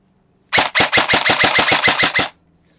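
An airsoft gun upgraded to 600 FPS fires about eleven sharp, loud shots in a rapid, evenly spaced burst lasting under two seconds, close to the listener, with no talk.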